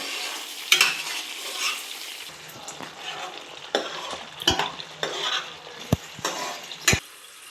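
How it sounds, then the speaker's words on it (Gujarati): Cream (malai) stirred in a pan over a low flame as ghee separates: a steady soft sizzle with repeated scraping and clinking strokes of a spoon against the pan, close and fairly quiet, with no talking. "આપણે ધીમા ગેસે કન્ટિન્યુ આવી રીતે હલાવતા રહેવું"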